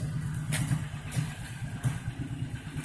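A 1988 Chevrolet Caprice Classic with its stock 305 V8 idles close by, a steady low rumble with a lumpy, pulsing rhythm that keeps going throughout, with no voices over it.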